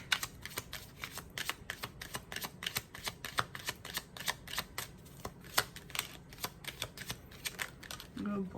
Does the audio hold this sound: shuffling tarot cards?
yes